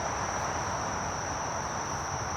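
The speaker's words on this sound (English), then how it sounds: "There are a lot of bees outside Carol's hive" A dense swarm of honeybees hums steadily outside a crowded summer beehive where the colony is bearding. The buzzing is continuous and even throughout, with a thin high whine over it.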